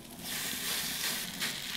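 Rösti mix hits hot oil and bacon fat on a plancha grill, giving a loud, steady sizzle and crackle with a few brighter spurts toward the end.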